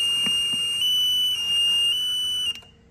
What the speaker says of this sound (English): This transmitter also sends an alarm.